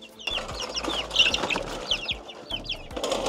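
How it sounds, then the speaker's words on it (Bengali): Chickens cluck in a rural homestay yard in Dawaipani, Darjeeling hills, North Bengal, with repeated short calls over a busy outdoor background and scattered chirps of other birds. "আর আমরা এখন দেখতে এসেছি মুরগি।"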